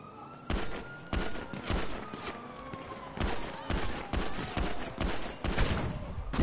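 Pistol gunshots in the GTA 5 video game, a rapid series of loud, sharp cracks at irregular intervals, close and punchy, with faint background tone and no talk.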